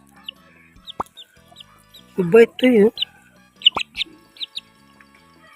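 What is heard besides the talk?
chick chirping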